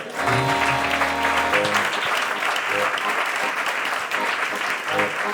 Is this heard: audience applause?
yes